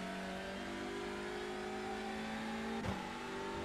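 Hyundai Elantra TCR touring race car engine lapping Interlagos in the iRacing simulator: a steady, loud, buzzing drone that holds pitch, then shifts sharply near the end as the car brakes and changes gear.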